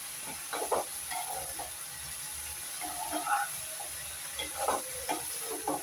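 Vegetable curry with homemade chicken powder stirred in an uncovered pan, with soft scraping and light sizzling in a few short bursts over a steady background hiss.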